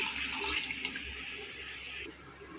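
Water is poured into a cooking pot for biryani rice, a steady continuous splashing rush that stays loud throughout and then eases slightly near the end, with no talking.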